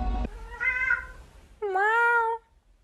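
A cat gives two distinct meows, a shorter one followed by a longer, louder one, close and clear against a quiet background.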